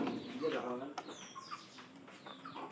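Tikri pigeons in their loft giving soft, faint coos and small chirps, with someone talking throughout and rustling movement in the background.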